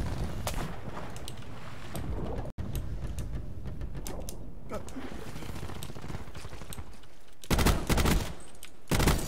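Gunfire in the Call of Duty Black Ops 4 video game from a weak, unreliable gun, scattered sharp shots over busy game noise, then two loud dense bursts near the end, with brief talk mixed in.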